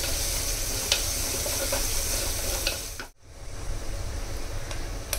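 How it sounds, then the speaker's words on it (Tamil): Chopped garlic fries in a pan while a kuzhambu is being cooked, giving a soft steady sizzle with occasional light stirring clicks and a brief pause partway through. "கட் பண்ணி வச்சிருந்த பூண்டையும் சேர்த்தாச்சு."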